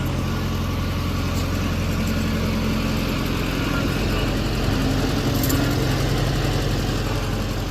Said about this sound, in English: driving the tractor to the barn over here